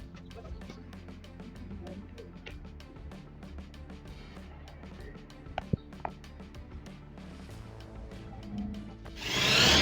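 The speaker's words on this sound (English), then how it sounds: "We continue sanding the repaired area until it is perfectly smooth and all application marks are gone." Steady abrasive rubbing of sanding a repaired area of car paint, continuous and close, with a few sharp clicks and a louder hiss rising at the end.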